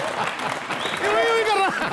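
Studio audience at a comedy show bursting into loud, dense clapping that swells and holds, with a voice speaking over it.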